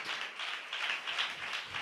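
A church congregation clapping hands together during a Tamil worship service: a brief, continuous wash of many hands applauding, moderately distant and even in level.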